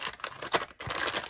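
Crinkling of a plastic baby wipe package, a burst of close, scratchy rustles and crackles during craft gluing work, short and busy with no talking.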